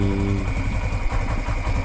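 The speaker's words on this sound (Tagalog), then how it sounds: "Nagpapahinit lang tayo ng makina." An engine warms up at daybreak before a farm harvest of bottle gourd and cucumbers, a steady, close, low rumble that holds constant throughout with no voices.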